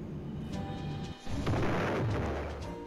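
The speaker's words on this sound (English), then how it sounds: "Why are you shooting at me?" Gunfire rattles in the Roblox game Moon Tycoon as a short, dense burst of booming shots breaking over a continuous game drone, fairly loud and close.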